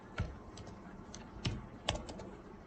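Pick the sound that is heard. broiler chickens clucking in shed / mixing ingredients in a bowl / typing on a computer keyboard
typing on a computer keyboard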